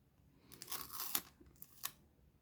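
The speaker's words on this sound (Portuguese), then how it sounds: "E eu vou passar fita pra unir essas folhas." Adhesive tape is pulled off the roll to join paper sheets, two short, rasping tearing strips heard close and quiet against near silence.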